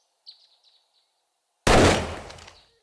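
A single loud shotgun blast booms up close in the video game 7 Days to Die and decays over about a second, with faint chirps before it and no talk.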